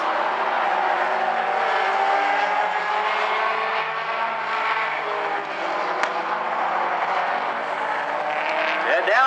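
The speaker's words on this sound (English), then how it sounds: "And now Bagley with half a car length off of McMillan as they come out of 4 one more time" Mini stock race cars roar continuously around a short speedway oval, engines droning loud and steady with pitch swells as they pass, while a commentator talks over the racing throughout.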